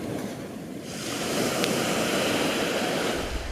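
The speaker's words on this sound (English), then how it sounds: "The noise of the sea is so relaxing." Sea waves and surf wash in a steady, continuous roar that swells slightly after the first second and then holds loud and even, with no voices.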